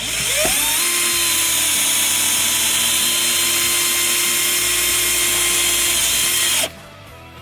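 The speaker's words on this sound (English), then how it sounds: "So I got self-tapping screw on the end of here. Gonna go through the rubber." Power drill drives a self-tapping screw through rubber while bolting a part of a first-generation Dodge down to the floor: a steady, loud motor whine ramps up, holds for about six seconds, then cuts off abruptly.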